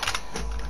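Quick keystrokes on a computer keyboard while a slash command is entered in Minecraft chat, soft close clicks in a short burst with no voices.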